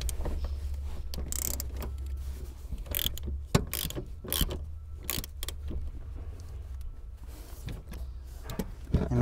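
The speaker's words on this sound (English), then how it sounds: "we're gonna be taking our ratchet and go ahead and tighten all the bolts" Ratchet tightening the seat bolts on a 2013 Honda Accord during a seat install, giving close, repeated clicking bursts under a steady low hum.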